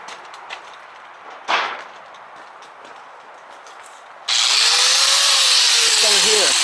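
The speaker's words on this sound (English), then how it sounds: "And then I cut it with the cut-off grinder." A cut-off grinder slices through metal with a steady, loud, high-pitched shriek that starts abruptly partway in and holds to the end, with the motor's tone dipping as it bites. Before it, only faint background noise and a brief soft thump are heard.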